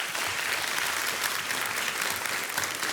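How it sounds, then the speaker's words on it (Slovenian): Applause rings out at a school competition, a dense, sustained clatter of many hands clapping at once, loud and steady throughout. "En aplavz."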